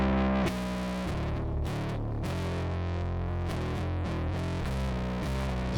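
Guitar or instrument signal driven through a PSP InfiniStrip preamp module, giving a harsh, buzzy, digital-sounding distortion that plays continuously and loud with no talking.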